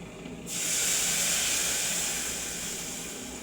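Hot water poured into a hot cooking pan while making a besan dish, bursting into a loud, sudden hiss after a half-second of quiet, then a steady steamy roar that eases slightly toward the end.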